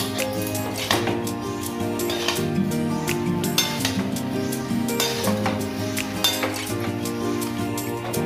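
A metal spatula clinks and scrapes in a pan while chicken fried rice is stirred with soy sauce, repeated irregular knocks over a soft sizzle, close and steady, with faint background music.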